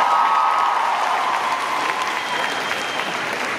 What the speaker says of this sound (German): kräftigen Applaus für Bilbo Beutlin aus der Hobbit